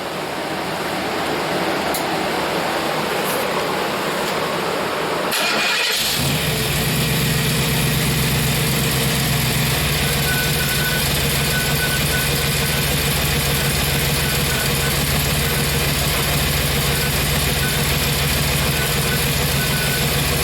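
A 1964 Chevy Impala 327 V8 running during cam break-in, a steady loud idle that rises as it is given a little gas, with a faint exhaust rattle.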